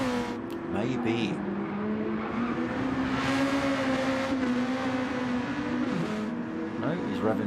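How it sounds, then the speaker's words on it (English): Race car engine at full throttle during the final race of a Red Bull junior league round at the Red Bull Ring, a steady loud drone with commentators talking over it throughout. "No, he's revving full."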